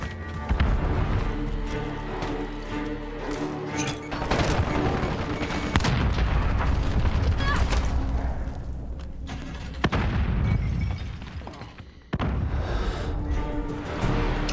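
Grenade blasts and gunfire in the Modern Warfare video game, with repeated heavy explosions and bursts of shooting coming close and loud over a dense battlefield din.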